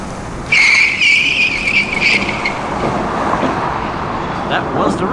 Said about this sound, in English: That was the Roadster again.